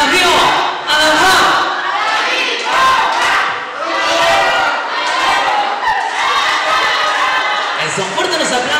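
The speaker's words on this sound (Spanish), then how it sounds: "que se escuche la porra bien fuerte de toda la gente" Party crowd at a family birthday and graduation celebration cheering and chanting in loud rhythmic bursts, many voices shouting together close by, with an amplified announcer's voice mixed in.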